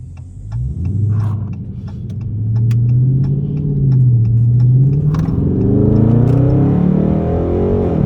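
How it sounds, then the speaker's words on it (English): A Scatpack car being driven, its engine rumbling deep and loud from inside the cabin, swelling as it accelerates and holding a throaty drone with light clicks overhead. "I just wanted to get y'all POV of driving a Scatpack"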